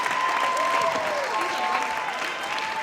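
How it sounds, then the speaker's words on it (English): Crowd applause at a spoken-word open mic event, steady and full throughout, with a faint tonal hum running underneath. "round of applause for Ryan, amazing DeSantos"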